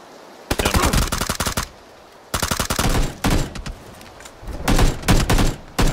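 Automatic gunfire in the video game PUBG, heard as dense rapid bursts of loud shots in several long strings separated by short pauses, with a quieter burst near the end.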